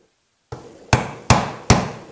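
A carpenter's hammer strikes a metal punch on a lathe part during a Sidney lathe restoration, three sharp, loud, ringing blows about half a second apart after a light first tap.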